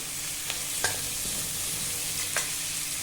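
Tomato and curry leaves sautéing in a pan, a continuous sizzle broken by a few sharp clicks of a spoon scraping and stirring.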